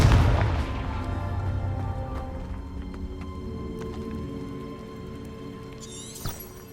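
A Confringo fire spell in Hogwarts Legacy bursts at the start with a loud, booming blast that decays into a long rumbling tail, and a brief sharp crack follows near the end.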